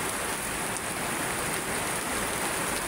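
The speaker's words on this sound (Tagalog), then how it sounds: "Maulan ngayong hapon." Rain falls steadily on an afternoon at Manila Bay, a constant, dense hiss with no breaks, heard alone at moderate loudness.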